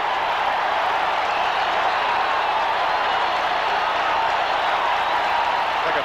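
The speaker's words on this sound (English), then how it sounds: "Like a playoff game, the way this crowd has risen up" A packed football stadium crowd roars during a 1983 Raiders vs Bills game in Buffalo, a dense, continuous wall of cheering that stays loud and unbroken throughout.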